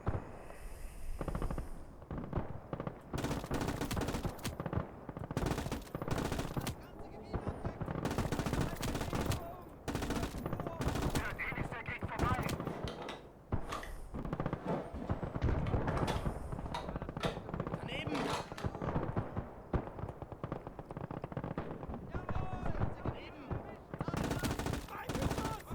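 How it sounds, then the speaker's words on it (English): Continuous machine-gun fire and rifle shots in the Call to Arms: Gates of Hell battle game, with rapid bursts layered densely and loudly across the whole stretch and only short gaps. Someone speaks briefly under the gunfire. "Machine guns in this thing suck."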